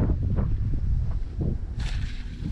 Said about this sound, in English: that just tells you how strong the wind is